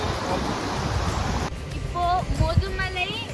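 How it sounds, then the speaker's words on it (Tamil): Pykara waterfalls rush loudly nearby as a dense, steady roar of falling water, which drops back to a softer wash as a person begins talking over it. "ஒரு 1 hour ஜேர்னியில் நாங்கள் இப்போ பைக்காரா வாட்டர் ஃபால்ஸ்க்கு வந்திருக்கோம்"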